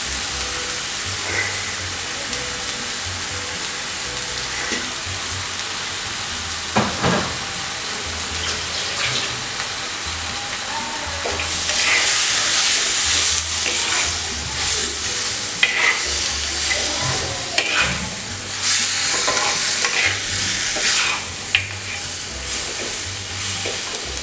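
Marinated chicken frying in a ginger-garlic paste masala for white chicken kurma, a steady close sizzle broken by clattering spoon stirs and scrapes against the pan, with no talking.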